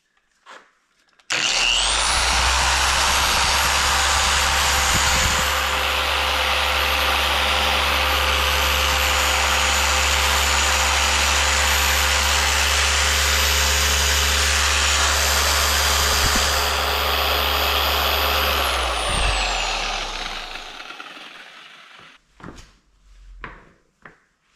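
A machine polisher spins at a low 3,000 RPM with Sonax Cut Max compound on a 2023 CVO motorcycle, a steady close whirring drone with a low hum that starts abruptly, runs about eighteen seconds and winds down, followed by a few light knocks.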